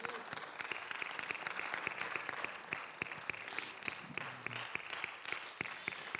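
Church congregation applause, fairly quiet and a little distant, with distinct individual claps ticking out in a quick rhythm over a softer crowd wash and some faint murmuring voices.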